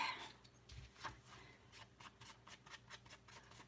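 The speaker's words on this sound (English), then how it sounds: "Exciting watching me ink edges, right?" Paper edges inked with an ink pad while crafting, a series of soft, close dabbing and brushing strokes repeating in a fairly regular rhythm, faint throughout.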